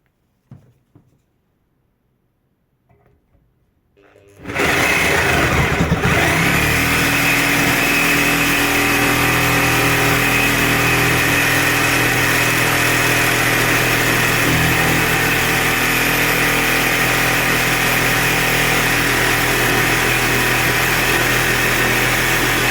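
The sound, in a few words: Parkside corded sabre saw cutting metal with Bosch carbide blade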